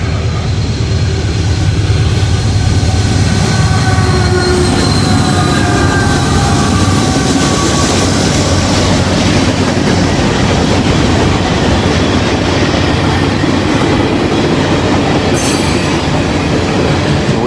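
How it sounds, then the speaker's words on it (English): A train passes at night in Glendale with a loud, steady rumble and rattle of cars. Wheel squeal and clickety-clack run throughout, close and unbroken. "First train of the night."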